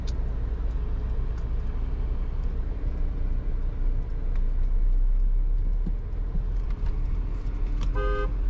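A car horn honks from the vehicle ahead on a road near Playa del Carmen, one short toot at the end over a steady engine and traffic hum inside the car.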